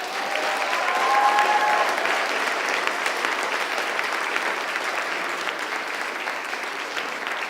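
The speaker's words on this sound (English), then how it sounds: "give a great round of applause for everyone here" An audience at a university raft debate claps in a sustained, dense round of applause, loud and even throughout with faint crowd voices mixed in beneath the clapping.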